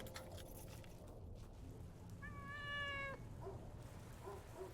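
A cat meows once in a clear, drawn-out call near the middle of a charity appeal, close and distinct over a soft background of ambient noise.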